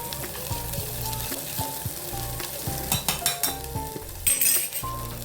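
Mashed dal goes into a hot oil tempering with a splash of water for spinach dal, sizzling and frying loudly while a spoon stirs and clinks against the pot in short bursts.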